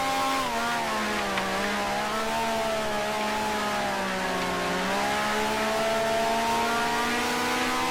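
A 1965 Formula One car races in Grand Prix Legends at the British Grand Prix, its engine a continuous, loud, raspy drone that rises and falls in pitch through gear changes and corners.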